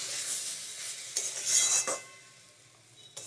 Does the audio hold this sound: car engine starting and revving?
no